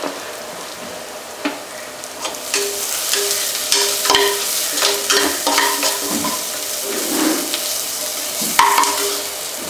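Chicken curry sizzling in a hot pan with turmeric powder as a spoon stirs it, steady frying crackle with scraping stir strokes, close and loud with no talking.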